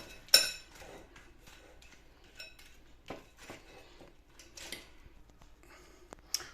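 Utensils stir and toss a salad seasoned with pepper and salt, giving a run of close, light clinks and scrapes against the bowl at an uneven pace, with no voices.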